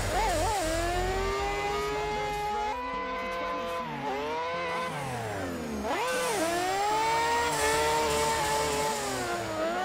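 A powerful car drifting in Assetto Corsa, its engine revving hard and continuously, pitch rising and dipping as the throttle swings, loud and close throughout.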